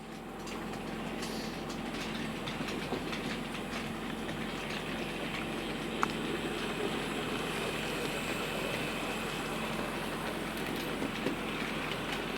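Bachmann L&YR class 05 model locomotive runs along its track with a continuous dense whirring and rattling rumble, steady and fairly loud throughout, with a few small clicks.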